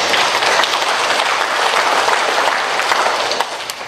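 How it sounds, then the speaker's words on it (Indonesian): Loud, sustained applause from a large crowd at a Kopdit Pintu Air credit union meeting, a dense, even wash of many clapping hands that eases slightly toward the end. "Tepuk tangan."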